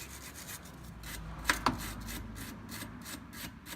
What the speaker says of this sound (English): simple little wire brush, nothing crazy. Just want to try to get a little bit of rust off the threads.